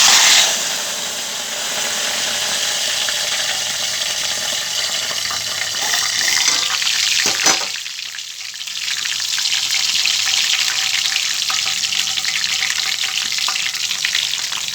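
Mint leaves hit hot oil in a pan for mutton pickle, setting off a loud, continuous sizzle and crackle that briefly dips when stirred, then settles into a steady frying hiss.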